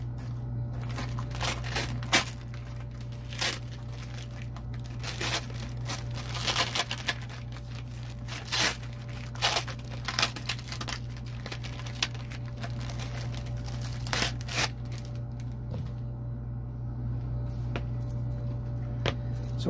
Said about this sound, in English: This is basting tape. We're gonna put that on our zipper